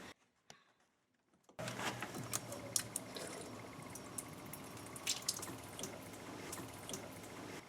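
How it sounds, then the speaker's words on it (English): A drinking fountain left running, its water gushing and splashing steadily close by after a brief quiet start with a few faint taps, carrying on without pause to the end. "You need to turn the drinking fountain off."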